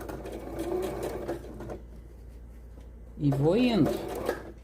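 A domestic sewing machine stitches squares of fabric together in short bursts of rapid whirring, close by, while someone talks between and over the runs.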